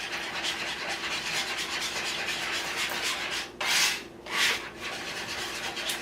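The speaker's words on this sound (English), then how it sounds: "we're going to give this a good whisk" Continuous scraping and rubbing as a whisk beats a French toast egg mixture with almond extract in a bowl, fairly faint and even, with two short, louder swishes near the end.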